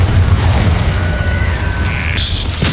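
In Hogwarts Legacy a Confringo spell explodes with a loud, deep booming rumble that carries on steadily, with a thin rising tone and brief higher effects near the end.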